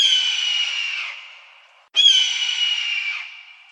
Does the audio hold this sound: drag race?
no